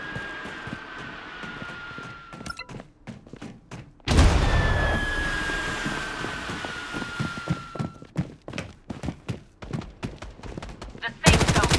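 Gunfire in the shooter game Blood Strike rattles in repeated sharp bursts, with one sustained heavy barrage in the middle and a loud burst at the end, amid thuds, footsteps and game voice callouts.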